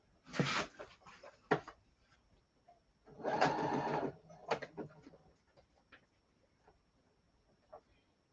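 A sewing machine runs a zigzag stitch in short bursts of rapid mechanical whirring, separated by pauses and a few clicks, heard close up without talk.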